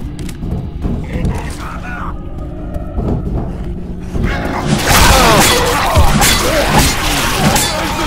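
Left 4 Dead 2 gameplay with a Charger special infected growling amid chaotic game noise: creaks, clanks and thuds, with a denser burst of crashing and roaring in the second half and voices mixed in.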